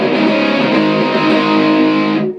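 Heavily distorted electric guitar chord through a Blackstar HT-5R tube amp with gain maxed, ringing out loud and sustained, thick and saturated, then cut off at the end.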